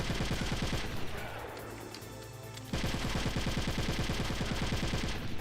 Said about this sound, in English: Was it machine gun turrets?